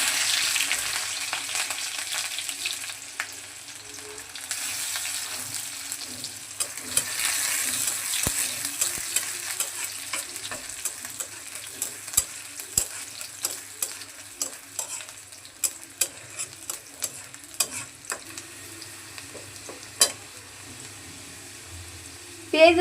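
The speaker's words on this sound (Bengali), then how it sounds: "তেল গরম হয়ে গেছে, দিয়ে দিচ্ছি পেঁয়াজ কুচি," Chopped onion and garlic fry in hot oil, a continuous crackling sizzle broken by sharp scraping clicks as a spatula stirs the pan.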